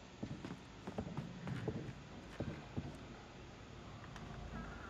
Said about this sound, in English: I swear to God I heard footsteps.